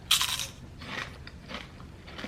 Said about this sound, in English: That crunch just scared me.